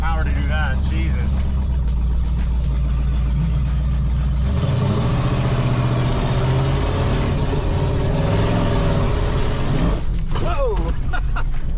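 A Ramcharger's 383 engine with open headers roars and revs hard as its tires spin on wet grass, a loud continuous low drone with excited voices talking over it.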